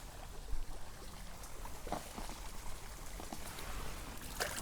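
Clear, cold river water flows over visible stones in Yogyakarta, giving a steady soft wash with light trickles and small splashes, fairly quiet and close, with no voices.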